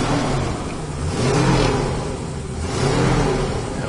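A 1976 Ford Bronco engine idles and revs close by, rising and falling in two broad swells with a steady rough rumble throughout, loud and continuous with no voices.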